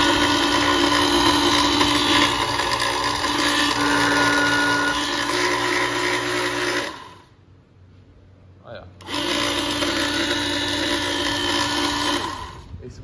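The electric motor of a Wolflube half-horsepower diesel pump hums and whirs steadily, cuts out for a couple of seconds, then starts again at the same level.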